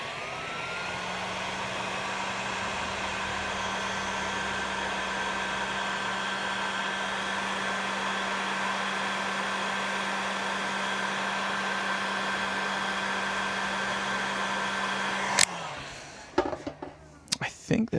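A heat gun shrinks 3-to-1 heat shrink tubing during a guitar amplifier build, a steady close blowing whir that runs for about fifteen seconds and then cuts off into clattering handling sounds.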